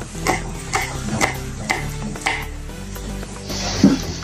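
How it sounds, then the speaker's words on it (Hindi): A knife chops green chillies on a board, five or six sharp, evenly spaced taps close by, with a brief clatter at the end. "पहले हम मिर्च को काटेंगे।"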